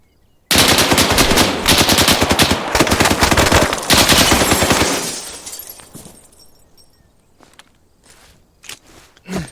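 An enemy gunner in a shooter video game fires a machine gun in loud, rapid sustained bursts lasting several seconds, then the fire breaks off into a few scattered, fainter shots and impacts.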